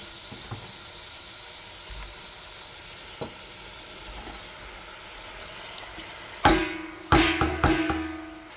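Sponge gourd (patola) being sautéed with sardines in a pan: a quiet low sizzle at first, then sharp loud bursts of frying and stirring as the gourd hits the hot oil, sizzling on afterward.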